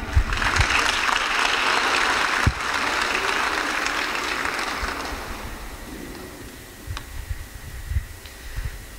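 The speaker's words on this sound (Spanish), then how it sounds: "Aplausos, por favor." Crowd applause at a school health event, a broad roar of clapping that holds for several seconds and then tapers into scattered, separate claps with some background bumps.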